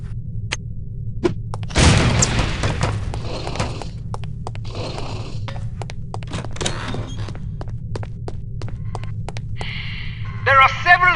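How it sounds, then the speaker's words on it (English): An exploding lipstick grenade goes off once with a loud, booming blast in the spy game No One Lives Forever. A voice talks over a steady hum, with scattered clicks and small thuds around it. "These relatively inconspicuous-looking lipsticks are actually powerful explosive devices that detonate on impact."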